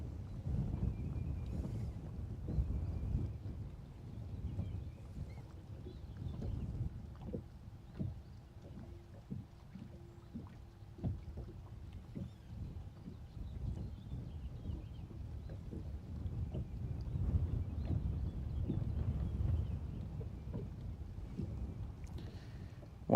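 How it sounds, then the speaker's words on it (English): Breeze gusting across a lake around a small fishing boat, a low buffeting wind rumble that swells and eases throughout, with faint water and boat noises and no talking. "It's getting a little breezy."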